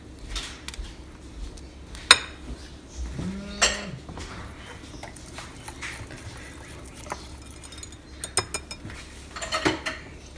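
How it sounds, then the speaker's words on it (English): Pancake batter made without milk being mixed in a bowl, with scraping and clinking of a utensil against the sides, steady and close, alongside light kitchen clatter. "Scrape the sides, and then you're going to mix it one more time."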